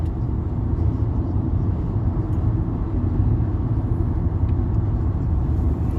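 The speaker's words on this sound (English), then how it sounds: "Watch that truck. That truck got 20 wheels on it." A large twenty-wheeled truck rolls past with a loud, steady low rumble of engine and tires that holds close and constant throughout, with no voices over it.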